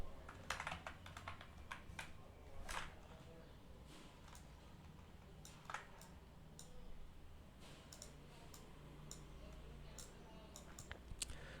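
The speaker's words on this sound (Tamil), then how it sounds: "அப்படின்னு டைப் பண்ணிக்கிறேன்" Someone types on a computer keyboard while working in Adobe Illustrator, with quiet, irregular bursts of clicking keystrokes spread across the whole stretch against a faint room hum.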